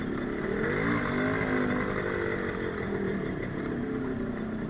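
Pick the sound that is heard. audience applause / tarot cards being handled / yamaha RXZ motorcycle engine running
yamaha RXZ motorcycle engine running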